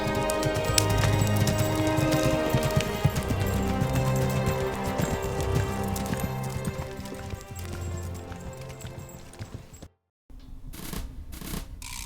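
Horses' hooves clip-clopping along a ranch trail in the Old West country of Tombstone, a steady close patter of hoofbeats that fades and cuts off near the end, faint talk mixed in.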